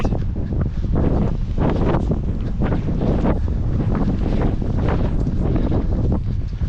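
Strong coastal wind during a weather warning, buffeting a runner's microphone with constant loud roaring rumble and gusty surges that never let up.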